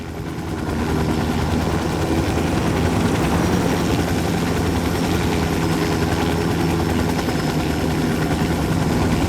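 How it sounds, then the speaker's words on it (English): A helicopter in Ghost Recon Wildlands runs close and loud, its engine and rotor rising quickly in the first second and then holding a steady, dense drone. "Here's your copter."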